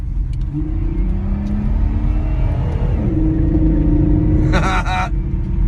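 A 1999 Grand Voyager minivan engine with a cold air intake revs up and accelerates with a steady rising rumble, heard from inside the cabin, ending in a brief higher whoosh.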